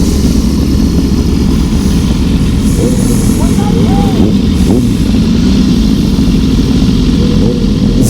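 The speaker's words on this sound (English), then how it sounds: "Everybody's revving up for the stoplight." Several motorcycles, including an S1K sport bike, idle and rev their engines together at a stoplight during a street meetup, a dense, continuous engine drone with rising throttle blips throughout.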